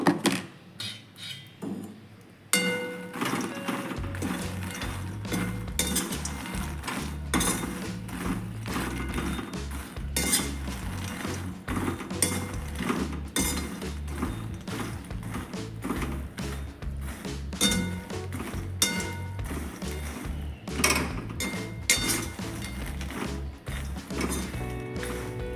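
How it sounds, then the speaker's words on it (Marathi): Makhana (fox nuts) roast in a kadhai under constant stirring. A dense, close stream of rattling taps and knocks against the metal pan runs for many seconds without pause. "ओके, तर त्याच कढईमध्ये मी थोडे मखानेही भाजून घेते."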